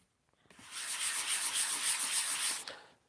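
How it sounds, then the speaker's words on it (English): Sandpaper rubbed steadily over painted wood, smoothing raised grain on a wooden stand, a close, continuous scratchy hiss lasting about two seconds with no talking. "So just sand at the back of it."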